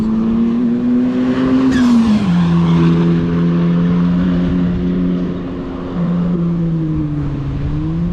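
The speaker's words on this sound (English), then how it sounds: "here comes that Atom. It's a great sound on the way past." An Ariel Atom sports car roars past on a track at Goodwood heading into a corner, its loud engine note dropping in pitch as it passes, then holding steady under load, close and continuous, with no talk over it.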